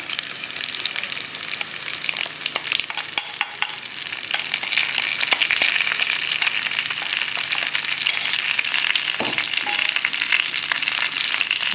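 Brinjal sautés in oil with spice powder, giving a loud, continuous sizzle close by, broken by scattered sharp clicks and scrapes of stirring, with no talking.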